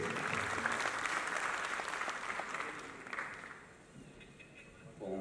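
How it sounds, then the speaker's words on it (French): A theatre audience applauds at a film festival awards ceremony at the Grand Théâtre in Dakar, steady clapping from a large crowd that fades toward the end before a voice comes in. "On l'applaudit s'il vous plaît"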